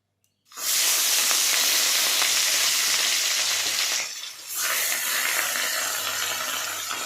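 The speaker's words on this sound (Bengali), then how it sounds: "এবার মাছটা ভাজবো কড়া করে।" Rui fish coated in salt and turmeric hits hot oil with a sudden loud sizzle that holds steady and close, with one short dip midway.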